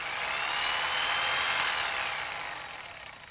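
Electric horse clippers fitted with A2 blades run steadily with a loud, close high-pitched whine and buzz, easing off slightly toward the end.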